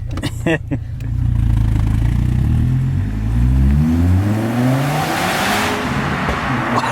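A Volvo T5 five-cylinder car engine, an ex-police car, revs hard nearby, its pitch climbing steadily as it accelerates, loud and roaring.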